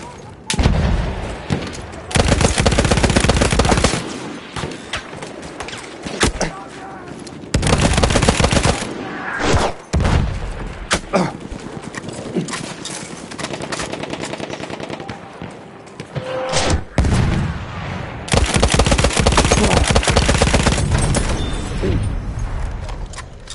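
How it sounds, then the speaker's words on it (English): Loud, sustained machine gun bursts in a console shooter game, long rattling volleys broken by short pauses and heavy booms of battlefield fire, with occasional voice callouts underneath. "Machine gun sighted!"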